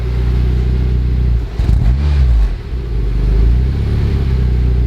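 A stock Honda car engine idles with a steady low rumble, then is blipped in a couple of quick revs near the middle before settling back to idle, close up with no talk.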